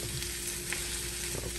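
Onions fry in a pan with a dense, loud, close sizzle and faint scraping as they are broken up, steady and brief with no voices.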